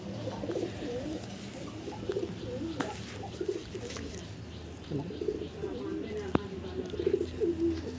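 Young racing pigeons coo in a low, soft, repeated burble close by, several overlapping calls running throughout while someone talks.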